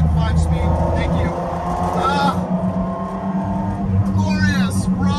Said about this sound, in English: What a rad experience driving a 92 Diablo, rear-wheel drive, no power steering, no ABS brakes, raw as hell, dog-legged 5-speed.